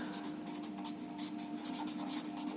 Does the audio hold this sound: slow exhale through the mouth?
no